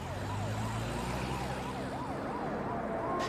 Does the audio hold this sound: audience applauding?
no